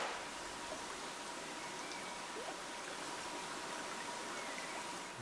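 Forest stream in the Morvan, a steady soft rush of flowing water, faint and continuous with no voices or other sounds.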